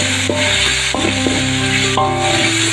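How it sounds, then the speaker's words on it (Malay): Okra is stir-fried with salty tauco in a pan, making a continuous close sizzle and stirring scrape under steady tonal background music. "Kemudian kita tumis-tumis sebentar."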